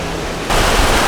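Strong rushing water from a fast mountain stream, loud and close, swelling to a louder surge halfway through.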